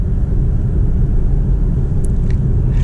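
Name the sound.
BMW M8 Competition V8 engine driving in automatic mode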